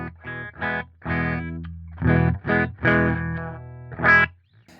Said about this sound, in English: very nice single coil sounds and humbucker sounds in the clean